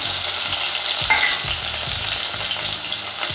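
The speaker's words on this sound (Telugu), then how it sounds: "క్యారెట్ ఇవైతే మంచిగా ఫ్రై కానివ్వండి" Carrots, onions and green chilies fry in hot oil for a mixed vegetable curry, a loud constant sizzle broken by regular spatula scrapes and knocks against the pan.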